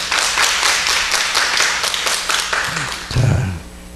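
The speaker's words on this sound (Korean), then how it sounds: "박수 한번 쳐주세요." A congregation applauds during a Sunday church service, loud dense clapping from many hands that runs steadily for several seconds before a brief thump and a fade.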